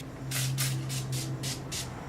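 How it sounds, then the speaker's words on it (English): A makeup setting spray mists in six quick, evenly spaced hissing bursts, close and fairly soft over a low background hum. "I'm obsessed with how these type of sprays spray."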